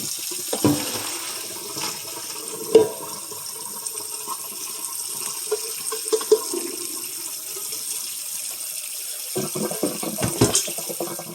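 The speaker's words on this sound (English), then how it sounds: "Go ahead and you're going to drain it into the running water there in your colander" Pasta drained into a colander under a running kitchen tap, a steady close stream of water splashing with a few louder clanks and gushes as the pot empties.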